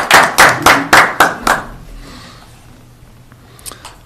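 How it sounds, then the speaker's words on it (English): A few people clapping in a meeting room during a county public health and human services board meeting, about six loud, close claps in a quick rhythm, then a quiet pause with a couple of faint claps. "I'd also just like to give a round of applause for the social workers in the room."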